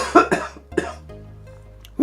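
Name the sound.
cough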